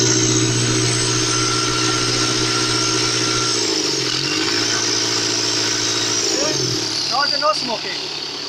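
A repaired engine with a formerly faulty, oil-leaking turbocharger revs up, its steady droning hum rising and falling in pitch as it accelerates, close and loud throughout, with brief higher-pitched whine near the end.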